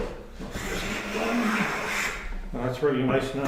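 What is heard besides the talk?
hand plane shaving a wooden board edge to edge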